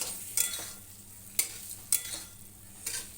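Fish heads sautéing in a pan, a low steady frying hiss broken by a few sharp scraping stirs, close and alone with no voices.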